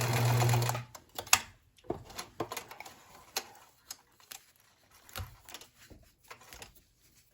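A sewing machine stitches elastic along a face mask's nose piece, opening with a sustained run of stitching and then continuing in short, separate bursts with brief pauses between them, close and clear.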